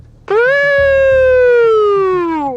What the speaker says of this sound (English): to see how well that siren sounds